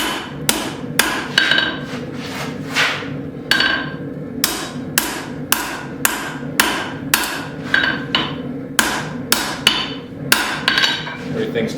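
Steel for split cross hooks forged with a hammer on the back of an anvil: loud, ringing metallic blows land in a steady rhythm with short pauses, close by and with no talking.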